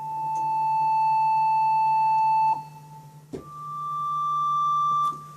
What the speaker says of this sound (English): the feedback tone, which is basically oscillator 2 working on its own